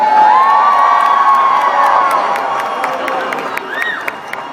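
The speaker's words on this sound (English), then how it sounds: "Do you think that maybe you all could give old St. Nick a little noise" A large crowd cheers and whoops for Santa at an outdoor Christmas tree lighting, a loud, sustained roar of shouting voices with high whistles and children's cries that slowly eases.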